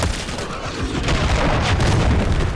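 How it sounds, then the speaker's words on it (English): A cruise missile strike in Call of Duty sets off heavy booming explosions and rumbling blasts, loud and dense, with crackling debris over low rolling thunder and no speech. "Friendly cruise missile deployed."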